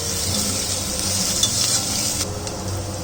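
Fenugreek leaves frying in a pan for a green mushroom biryani, giving a steady close sizzle with stirring scrapes throughout and no talk.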